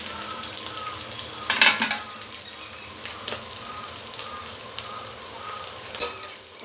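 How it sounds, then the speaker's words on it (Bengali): Bay leaves, black peppercorns and whole garam masala sizzle in hot oil for chicken biryani, a steady quiet crackle with two sharper bursts of spitting and occasional soft clinks of stirring. "দুটো তেজপাতা, তিনটে তেজপাতা দিলাম, গোলমরিচ এবং গোটা গরম মশলা ফোড়ন দিলাম।"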